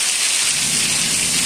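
A heavy rainstorm roars as a dense, continuous hiss of pouring water with a low rolling thunder underneath, loud and steady throughout.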